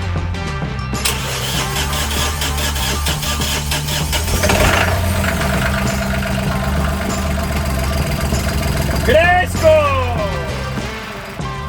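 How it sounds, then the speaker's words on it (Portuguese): A boat engine sputters to life and then runs with a steady, knocking drone, loud and close, while a voice shouts briefly and another sound sweeps near the end. "E o motor do balanço volta a funcionar."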